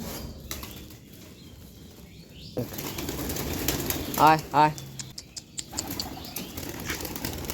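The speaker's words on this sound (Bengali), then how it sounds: "আর এদিকটা আজ শুধু বাইরে দেশি পায়রাগুলো আছে" Local pigeons on a rooftop burst into flapping wing beats, followed by a few short, close coos, while a person calls out to them over steady outdoor background.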